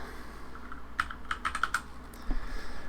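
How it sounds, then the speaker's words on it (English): Keys tapped on a computer keyboard in a short burst of quick clicks after a pause, close and crisp against a quiet room hum, with no voices. "I start typing ktorrent,"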